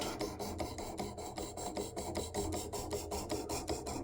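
A Kershaw Blur knife is sharpened on a Work Sharp Elite Precision sharpener's 600 grit abrasive, making rapid, even rasping strokes in a steady rhythm of about three or four per second, close and clear.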